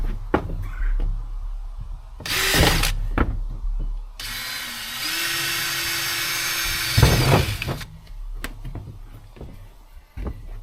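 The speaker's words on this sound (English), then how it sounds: "I like to start with pilot holes here. And then we can move up to the big one whenever we get these drilled all the way through." Power drill boring pilot holes, with short clicks and knocks, then a sustained whining drill run of about four seconds, followed by more handling clatter, close and moderately loud.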